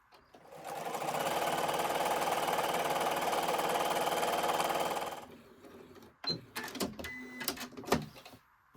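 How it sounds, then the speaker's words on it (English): A sewing machine stitches close to a fabric edge in one continuous, even run of about five seconds, then stops, followed by a few clicks and handling sounds. "I'm going to sew really close to this edge. Do a little back stitch."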